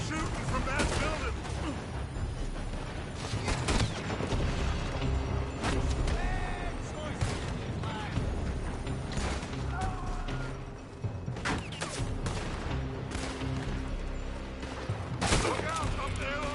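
Dense gunfire rattles from a building in Red Dead Redemption 2, with rapid overlapping shots and bursts, loud and continuous, plus crashes and shouted voices mixed in throughout.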